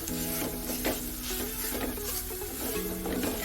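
Brinjal leaf thoran stirred in a pan, a steady scraping and rubbing of the spoon through the greens over a soft sizzle, continuous and close, with no voices.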